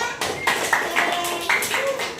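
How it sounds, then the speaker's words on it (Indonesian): Classroom applause from a group of ninth-grade students, a burst of hand clapping filling the whole moment, moderately loud and close, with some voices mixed in. "tepuk tangan buat kita semuanya"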